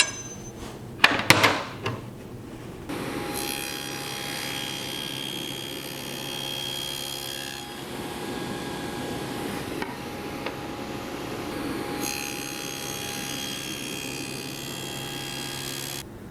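A Woodpeckers Ultra Shear dado blade runs on a SawStop table saw and cuts dados in maple, with a brief loud impact at the start followed by a long steady whine and roar of the spinning blade.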